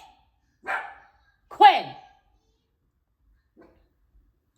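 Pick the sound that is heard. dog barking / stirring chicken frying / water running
dog barking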